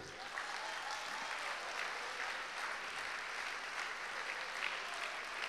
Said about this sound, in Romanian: Aplaudați-l!